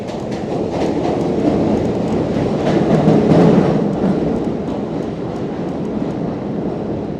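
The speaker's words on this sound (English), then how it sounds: "Oh no, that's my train." A New York City subway train pulls out of a Brooklyn station with a loud, continuous rumble and clattering wheels, swelling midway and then holding steady.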